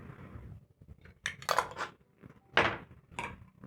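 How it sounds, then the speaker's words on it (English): A utensil scrapes and clinks against a pan while tomatoes are stirred into beef stroganoff, a few close, fairly quiet strokes with wet clatter and no talk. "Stir in the tomatoes"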